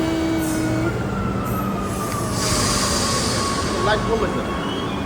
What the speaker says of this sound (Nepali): ल ट्रेन पनि आयो हामी चाहिँ अब यसमा जाने